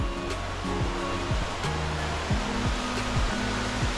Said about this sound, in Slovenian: I dolazak na vodopad Ilijomska na Vlašiću.